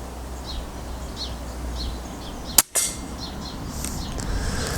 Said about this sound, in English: So here's shot number 2.